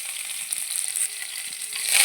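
Urad dal, chana dal, garlic, mustard seeds, curry leaves and green chillies fry in hot oil in a pan, making a loud, close, crackling sizzle that swells slightly toward the end.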